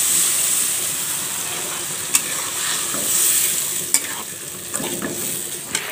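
Spice paste of chili, turmeric and ground masala sizzling and being stirred in a pan for a fish-head curry, a steady loud frying hiss broken by occasional sharp clicks of the spoon against the pan.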